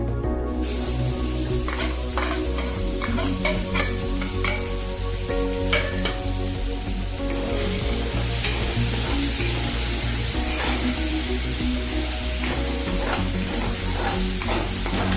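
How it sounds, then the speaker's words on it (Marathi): Onion sautéing in a pan for a mixed vegetable curry gives a steady, dense sizzle throughout, with frequent scraping stirs layered on top and a constant low hum underneath. No one speaks. "कांद्याचा कलर चेंज होईपर्यंत कांदा परतून घ्यायचा."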